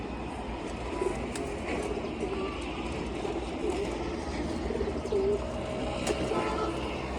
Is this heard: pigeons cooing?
yes